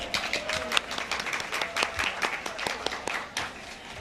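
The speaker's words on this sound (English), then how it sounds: "Yes, applause, definitely." Scattered clapping from a breakfast crowd at a women's history event in Orlando, moderate and uneven with individual claps standing out and some murmuring underneath.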